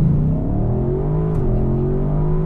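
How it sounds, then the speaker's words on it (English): A 2020 Audi RS6 Avant launches hard in Sport Plus with launch control and an automatic gearbox, its engine note climbing loudly before a quick shift briefly drops the pitch and it pulls again. "We're just gonna start with the launch control."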